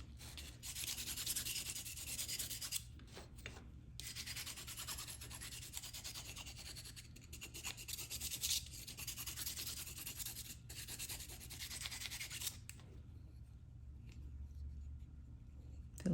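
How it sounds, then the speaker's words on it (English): A steel burnisher is being dressed with 400 grit sandpaper wrapped around a file, making a steady, close scratching rub in long repeated strokes with brief pauses, over a low background hum. "I do like to end with a 400 grit, and I don't have a sanding stick at the moment for that, so I'm just going to put this, wrap this around the existing file."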